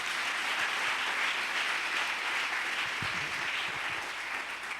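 A church congregation applauds to acclaim the Lord, a steady, dense wash of clapping from many hands that carries on unbroken throughout, with a few faint low thumps beneath it.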